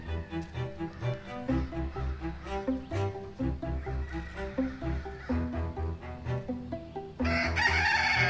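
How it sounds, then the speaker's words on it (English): A bouncy, rhythmic tune plays for several seconds before a rooster bursts into a loud crow near the end. "My rooster wants to let everyone know that it is morning time."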